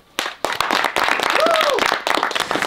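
An audience claps and applauds a farmer at a sunflower farm. The clapping runs steady and fairly loud throughout, with voices and a brief whistle-like tone mixed in.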